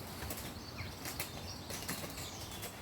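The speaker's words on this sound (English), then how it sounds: "Birds going flapping." Birds flap their wings in a steady, near flurry of soft beats and rustles that runs through the whole stretch, with no talking over it.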